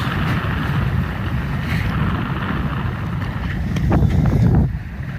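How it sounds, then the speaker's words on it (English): Steady wind and rushing water around a sailboat under sail at about 5.5 knots on the Pacific, a broad hiss with no engine drone, swelling briefly louder near the end. "And as the day ends, we are sailing."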